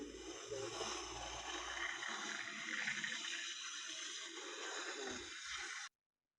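Water runs steadily out of a machine as a continuous gurgling rush of flow, fairly faint and even throughout before cutting off abruptly near the end.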